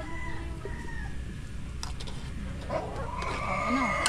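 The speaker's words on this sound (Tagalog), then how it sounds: "Ay, yung manok." Chickens cluck close by with short scattered calls over a steady low hum, and a couple of sharper squawks rise near the end.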